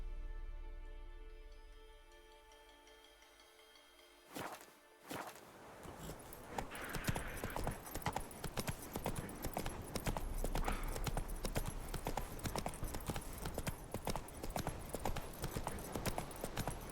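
Horse hooves clip-clop steadily as the horse is ridden in The Witcher 3, rhythmic and fairly close, starting after a few seconds of quieter ambience and continuing to the end.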